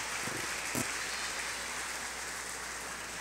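A church congregation applauds in a steady, distant wash of clapping that sounds like rain, with a brief louder burst near the start and no speech.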